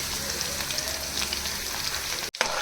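Crushed garlic fries in a pan, a steady hiss of sizzling oil filling the clip with fine crackles, briefly cutting out near the end before resuming.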